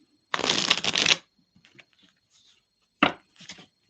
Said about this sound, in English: Shuffle for Aries.